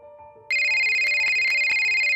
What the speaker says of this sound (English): The cell phone in my pocket began to ring.